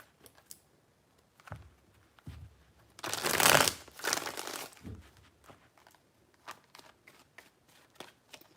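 Tarot cards being shuffled by hand: soft crisp riffling bursts that peak in a dense flurry mid-clip, with scattered light card taps and flicks before and after, close and fairly quiet with no talking.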